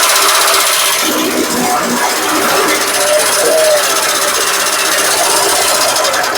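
Chaff cutter machine chopping sugarcane into inch-long fodder pieces, a loud, steady mechanical drone with rhythmic whirring and clattering throughout, close up.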